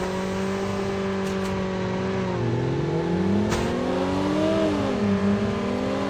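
A car engine in a video game drones steadily and revs up and down, its pitch rising and falling as the vehicle drives, loud and continuous with no talking.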